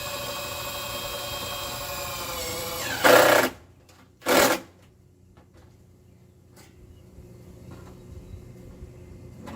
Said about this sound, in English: So now I'm putting my screws in here.